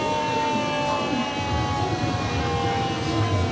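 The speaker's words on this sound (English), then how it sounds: "And I hear sirens." Fire engine sirens wail continuously during the Santa Clara County Fire Department's run in the Los Gatos children's Christmas holiday parade, mixed with steady crowd and street noise and a low rumbling engine.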